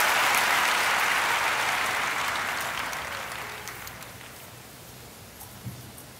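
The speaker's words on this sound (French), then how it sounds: "Acclamons fort pour le Seigneur." A church congregation applauding for the Lord, sustained clapping from a large crowd, loud at first and gradually fading toward the end, with a few scattered claps.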